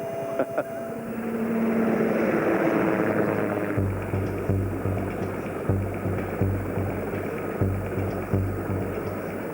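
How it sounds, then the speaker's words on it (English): A rescue helicopter arrives at the seaside, its steady rotor thump and engine drone filling the scene, rhythmic beating growing prominent over a continuous mechanical roar, fairly close. "India Juliet's sister helicopter Whiskey Bravo arrives to lift the hypothermic man."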